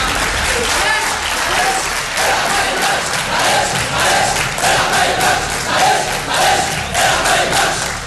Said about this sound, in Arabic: تشجيع من فيكتوريا.